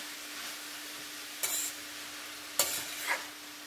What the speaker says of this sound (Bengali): ও কেটে রাখা সর্ষে শাকটা কড়াইয়ের মধ্যে দিয়ে ওকে ভালোভাবে নাড়াচাড়া করব।